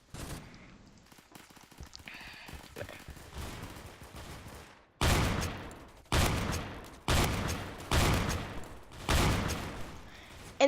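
A Remington shotgun loaded with bird shot fires in the game Phantom Forces, five or six loud, evenly spaced booms each with a short rumbling tail, following a stretch of quieter in-game movement and clatter.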